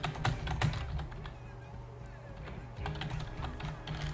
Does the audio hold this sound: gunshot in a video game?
no